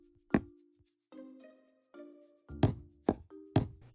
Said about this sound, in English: Then start 1 block back and place dark oak blocks for the garage doors.